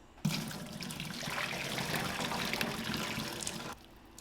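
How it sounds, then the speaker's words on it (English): Water being drained off a pot of boiled potatoes, a steady splashing pour starting abruptly and running for about three and a half seconds before cutting off, fairly quiet and close. "So I'll drain them off."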